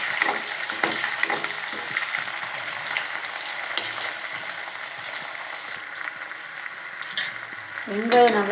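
Onions sautéing in hot oil with garlic, mustard seeds and fenugreek for a Tamil taro-root kara kuzhambu, a steady sizzle and crackle with occasional spoon stirs and a brief pan scrape near the end.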